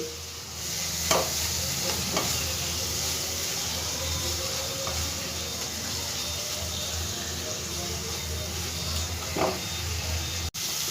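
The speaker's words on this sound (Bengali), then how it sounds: "এই মশলাগুলো সব একসঙ্গে খুব ভালো করে আমি ভেজে নেব, যতক্ষণ না মশলা থেকে তেলটা ছেড়ে দিচ্ছে" A dense, steady sizzle of ground spices and black pepper frying in oil for chicken patties, loud and close, with a few stirring scrapes and no talk.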